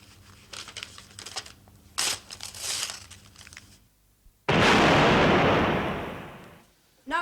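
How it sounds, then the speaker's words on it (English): A cannonade in a period-drama setting: scattered low thumps and voices give way to a sudden loud, sustained broadband roar of cannon fire that slowly fades, with another blast starting at the very end. "At this hour each day we have a cannonade"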